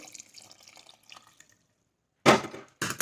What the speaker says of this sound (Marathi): तर मी इथं थोडंसं गरम पाणी टाकत आहे